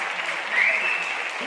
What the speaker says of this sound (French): On peut l'applaudir fort.